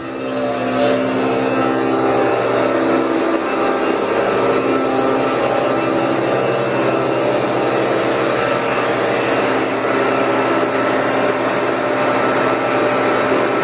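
A wastewater aeration blower runs loud and steady for the whole stretch, a continuous droning roar with a tonal hum and no breaks.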